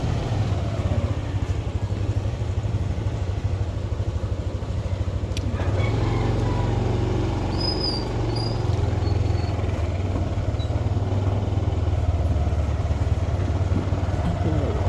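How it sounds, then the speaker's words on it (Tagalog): A motorcycle engine idles steadily nearby, a low continuous rumble with faint voices underneath. "So yan ang inarkila nating motor."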